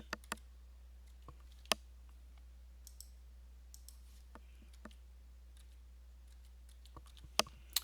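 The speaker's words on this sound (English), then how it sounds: "Then I'm going to select student and type in the rest of my name." Computer keyboard being typed on, sparse light clicks and taps at irregular intervals over a quiet steady hum, close but faint.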